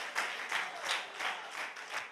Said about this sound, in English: Somebody clap your hand and give God a praise. Clap your hand.